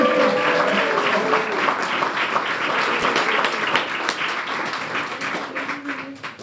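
An audience at a graduation ceremony applauds in a sustained, fairly loud round of clapping that thins slightly toward the end, with faint voices beneath.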